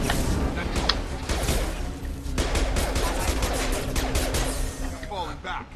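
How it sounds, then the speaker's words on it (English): Rapid pistol shots from Mass Effect 2 combat crack repeatedly over a dense, noisy game mix, with someone talking over much of the firing. "I took out 3 guys in less time with just my pistol"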